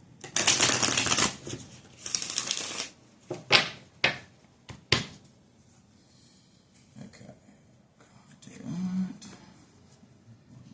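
Tarot cards are shuffled in several quick riffling bursts, followed by a few soft taps and rustles, then quiet with a faint murmur.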